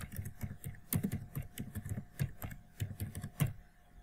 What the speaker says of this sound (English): type system information in the search bar